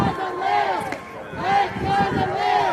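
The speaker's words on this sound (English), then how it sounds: "crowds that have been pushed very far away by the Secret Service are chanting, "Let Gaza live," with her from afar" Distant protest crowd outside the White House chants a Gaza slogan in a steady repeated rhythm, the massed voices far off and blurred, rising and falling over a few seconds.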